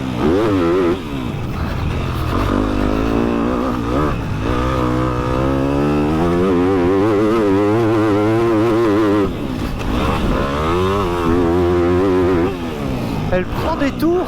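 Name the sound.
Yamaha 250 YZF motocross bike engine revving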